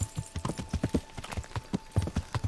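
Steady clip-clop of horse hooves trotting along a road at an even rhythm, close and clear, with no voices, in the video game Kingdom Come: Deliverance.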